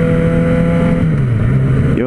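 A Yamaha XJ four-cylinder motorcycle engine runs loud and close at a steady drone, its pitch sagging slightly before a quick blip of revs at the end.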